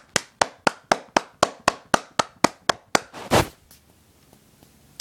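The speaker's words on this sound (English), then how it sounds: "I think that deserves a round of applause" About a dozen evenly spaced, sharp hand claps ring out alone in a steady rhythm, closing with a slightly longer, louder burst before falling to near silence.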